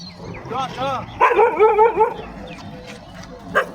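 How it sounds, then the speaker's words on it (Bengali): A puppy yelps and whimpers close by outdoors during a morning run, giving a few short high whining barks in a burst, then a brief yip near the end over low background noise. "এখানে কুকুর বাচ্চা কুকুরের দেখা লেগে গেছে"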